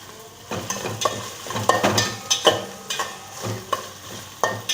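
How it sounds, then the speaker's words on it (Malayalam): Curry leaves crackle in hot oil for a carrot, bitter gourd and raw mango pickle, with bursts of sizzling and spluttering and close scraping as they are stirred, loud and uneven, with no talking. "കറിവേപ്പ് ഇട്ട് കൊടുക്കുക അപ്പോൾ കുറച്ച് കറിവേപ്പിലയും കൂടി ഇട്ട് കൊടുത്തിട്ടുണ്ടായിരുന്നു"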